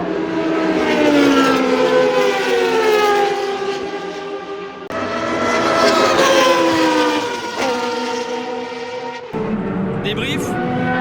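Historic race cars scream past one after another at the French Grand Prix, each engine note rising and falling in pitch as it nears and recedes, loud and close, with a brief pause before another car arrives.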